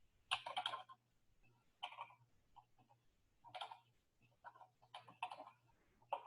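Quiet clusters of light keyboard taps in irregular bursts, with short pauses between runs, under a faint steady low hum.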